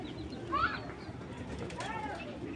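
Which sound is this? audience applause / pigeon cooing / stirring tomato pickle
pigeon cooing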